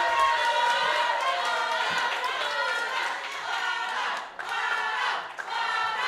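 An audience cheers and whoops loudly for a performer at a stage event, with scattered clapping and excited shouting rising and falling in a continuous crowd roar over several seconds.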